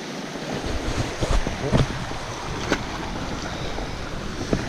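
Water in a trout stream after the first flood runs in a steady, dense rush, with a few brief splashes and knocks over the constant wash.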